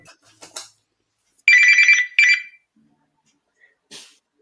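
A red telephone rings in a TV studio with two loud electronic bursts, the first longer than the second, separated by a short pause, with faint scattered noises before and after.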